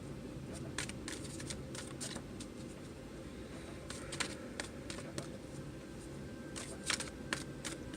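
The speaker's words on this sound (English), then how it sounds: "I'm shuffling kind of weird today." Tarot cards being shuffled by hand, heard as quick papery riffles and soft clattering bursts that come in irregular clusters, close and fairly quiet, with no talking.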